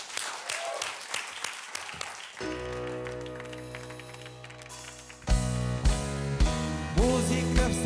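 A studio audience on a television talk show gives a brief burst of clapping, after which a piano-led musical number begins and takes over.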